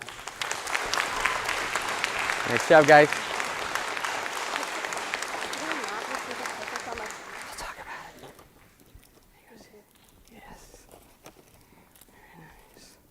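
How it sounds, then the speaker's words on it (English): Audience applause at a high school band and choir concert, a broad wash of clapping that swells and peaks briefly about a third of the way in, then fades out by the midpoint, leaving a quiet room where someone speaks briefly. "Now you can clap."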